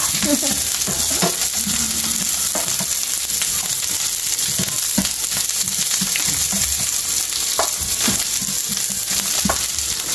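Onions sizzle steadily in a pan with a constant, even hiss, broken by intermittent scraping and tapping as they are stirred; no voices.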